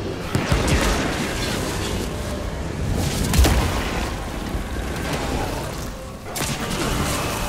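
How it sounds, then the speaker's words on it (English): Grenades going off in the Wild West action game Evil West. Loud, booming blasts sit over chaotic combat noise, with sharp bursts near the start and in the middle. "Grenades!"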